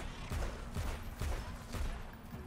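Gunshots from a video game fire about five times in a regular rhythm with short gaps between shots, each a sharp, punchy burst with low thump, moderately loud against faint background sound and no talk.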